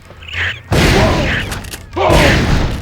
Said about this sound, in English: The Fire Swarm is a neat weapon upgrade that adds nice dynamic lit flame effects